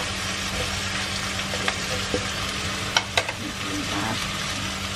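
Vegetables for a vegetarian lo mie sizzle steadily in a hot wok, a continuous close frying hiss broken by a few sharp utensil clinks.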